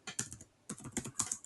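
Quick bursts of keystrokes on a computer keyboard, close and fairly quiet, arriving as two short runs of clicks separated by a brief pause, with no voice over them.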